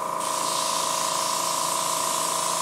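Spray paint hissing onto Hasegawa F-14 Tomcat model kit parts, one continuous close, bright aerosol spray lasting a couple of seconds with no talk.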